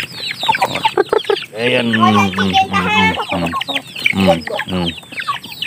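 Farmyard chickens clucking close by, with a rooster among them, in short bursts, while a person talks over them.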